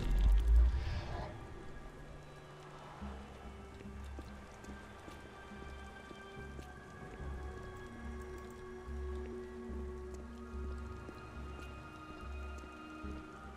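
Steady rain in the Beyond: Two Souls video game patters continuously over a low rumbling hum, with scattered drips and no voices.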